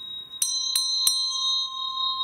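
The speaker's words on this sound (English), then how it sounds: "I'm just going to use my bell" A small hand bell rung three times in quick succession during a ritual opening of sacred space, each bright metallic strike leaving a steady, sustained ringing tone that hangs on after the strikes, close and clear.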